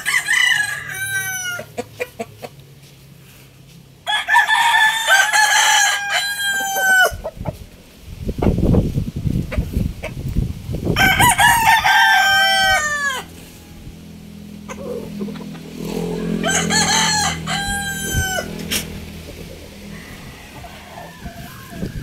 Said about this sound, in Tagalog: So ito yung mga iba pa naming manok mga kabuenas.